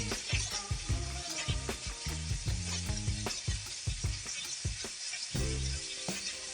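Steady sizzling of chicken fillet frying in a hot pan, crackling continuously with occasional louder pops and some clinking in the background.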